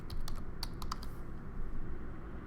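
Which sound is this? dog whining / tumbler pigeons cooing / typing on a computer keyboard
typing on a computer keyboard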